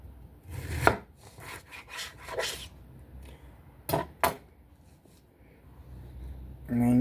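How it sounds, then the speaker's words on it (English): A knife slices through a Sugar Kiss melon on a cutting board, a few sharp cutting strokes and thuds spaced out over quiet moments, fairly close, ending with a brief voice. "we're just going to slice this in half"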